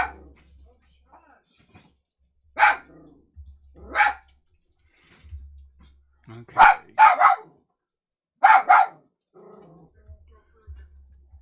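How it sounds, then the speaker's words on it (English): Several sharp, close barks from a dachshund named Maddie ring out in pairs and singles, separated by quiet gaps and a faint low hum, with a brief spoken word. "That's Maddie. Maddie's barking."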